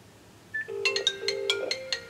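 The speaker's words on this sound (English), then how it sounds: "I'm going to give myself a call on the landline just to make sure that I'm still receiving signal" A landline phone rings with an incoming call, a short electronic ringtone of rapid repeated tonal chirps, close and clear against a quiet room.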